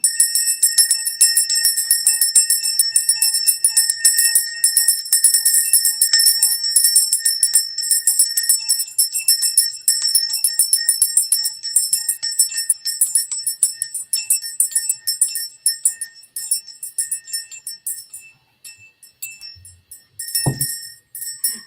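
A hand bell rings continuously and bright for about twenty seconds, a steady shimmering peal that thins out toward the end, with a soft thump near the close and no talking over it.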